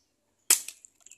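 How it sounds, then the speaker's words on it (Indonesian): A single sharp report from a small Dcobra M2000L pistol, a loud close crack with a short decaying tail followed by a few faint clicks and rattles. "Oke, pistol sudah dikokang, mari kita coba lagi"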